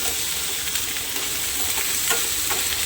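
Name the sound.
onion and spices frying lightly in pan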